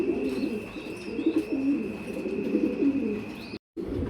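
A pair of American Modena pigeons coo in soft, repeated low rolling calls, close and steady, against a faint background hum, with a brief dropout near the end.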